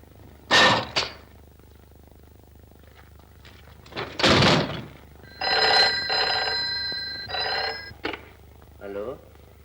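An old-fashioned telephone bell rings in short bursts in a 1957 black-and-white Hindi film scene, with thuds and a door sound between rings and a voice briefly heard.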